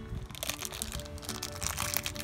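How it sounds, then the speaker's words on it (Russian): A plastic packet from an LOL Surprise toy unboxing is torn open, giving a steady, dense crinkling and crackling at close range with no voices over it. "Давай следующий пакетик открываем."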